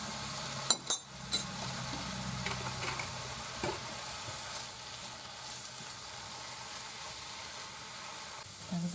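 Vegetables for borscht fry and get stirred in a pan, a steady close sizzle with a few sharp scraping clinks of the utensil near the start.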